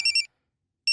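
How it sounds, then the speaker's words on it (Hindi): A telephone gives a short electronic trill, then a second burst after a pause of silence, loud and close. "अरे फोन उठा लो ना, वरना बार बार यूं ही बजता रहेगा।"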